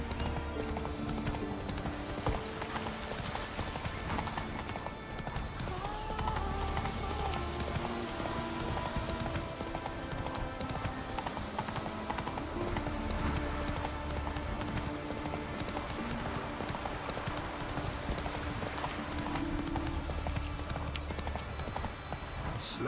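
Hooves of the horse drum in a fast, continuous clip-clop under music and game ambience in The Witcher 3, with a faint neigh mixed in.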